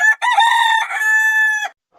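A rooster crows once, loud and close, with a brief opening note followed by a long, drawn-out call lasting about a second and a half, then silence.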